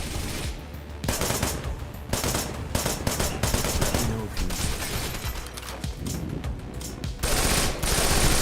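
Rapid automatic gunfire and bursts of shots from the hack-and-slash shooter game Wanted: Dead, loud and continuous across the whole stretch, with a voice talking over the shooting.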